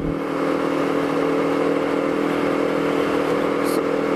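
A two-cylinder Honda CBR sport motorcycle runs at a steady, close engine whine with a constant mid-pitched hum, with no breaks and only brief faint background noise.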